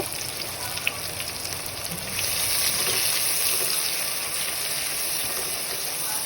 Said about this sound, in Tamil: நீல வாக்கில் அரிஞ்ச ரெண்டு மீடியம் சைஸ் வெங்காயம் சேர்த்து நல்லா வதக்கிக்கோங்க